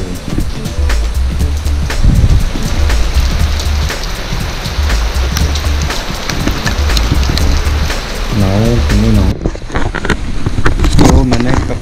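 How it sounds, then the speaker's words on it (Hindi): Heavy rain pours steadily and loudly close by, with a voice talking over it and a brief pause in the downpour near the end. "आप देख रहे हैं बारिश हो रही है मस्त"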